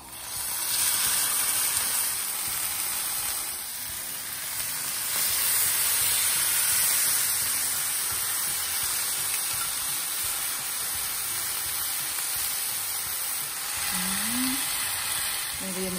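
A long piece of salmon pan-searing in a frying pan gives a steady, moderately loud sizzling hiss that barely changes throughout, with faint kitchen clatter now and then.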